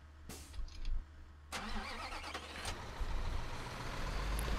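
A truck engine starts and then rumbles steadily while driving in Bau-Simulator 2015, the construction simulator game, with a couple of sharp clunks early on and a continuous mid-range drone that grows louder, without talk.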